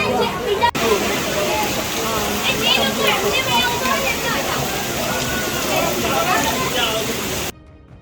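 Floodwater rising after heavy rain in Chhota Udaipur, a loud continuous rush and slosh of water, with voices faintly mixed in beneath the torrent.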